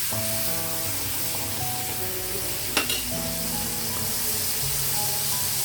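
Tamarind dropped into a hot pan of tempering for pulihora, setting off a steady close sizzle and frying crackle with a brief sharp spatter partway through.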